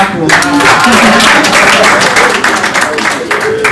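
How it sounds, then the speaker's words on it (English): Audience applause at a food and agro-business roundtable, a dense patter of clapping from a crowd, fairly loud and steady, with a voice talking faintly underneath. "If you want to clap."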